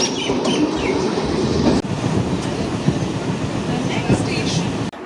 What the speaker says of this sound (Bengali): বাড়ি যাওয়ার ট্রেন আসছে।